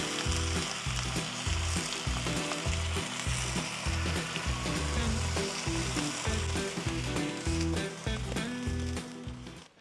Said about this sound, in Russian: Я беру сливки и заливаю наши перцы сливками.